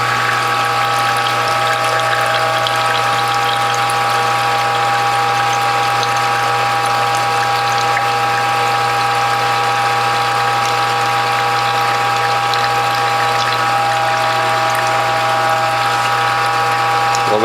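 A manual juice press ratchets forward while pressing vegetables such as French sorrel, cucumbers, zucchini, beets and carrots, giving a loud, continuous mechanical clicking and grinding drone with a steady hum underneath and no talk.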